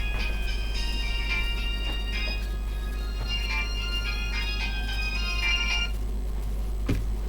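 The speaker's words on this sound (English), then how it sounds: "Excuse me, there's a phone." A telephone rings indoors with repeated electronic trills in bursts, fairly loud and close, over a steady low hum, stopping near the end.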